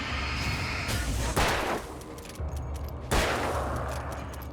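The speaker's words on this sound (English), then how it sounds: "I'm not fully reloading my gun." Gunfire in the Alan Wake video game: a few sharp loud gunshots with broadband bursts, spaced over several seconds against a steady noisy background.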